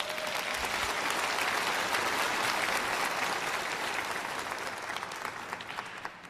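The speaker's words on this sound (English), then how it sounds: "Give the old man a round of applause." A dense, steady wash of audience applause rises for an older motivational speaker at a live talk, filling the room for several seconds before tapering slightly near the end.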